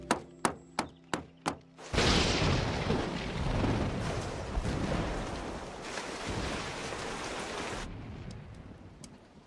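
Heavy rain on a roof sets in abruptly after a few sharp knocks, a dense loud hiss that holds steady for several seconds and then drops away to quiet.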